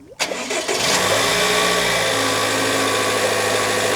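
A car engine cranks and catches in a repair shop, turning over briefly before settling into a steady, loud, close idle that runs to the end with no talk over it.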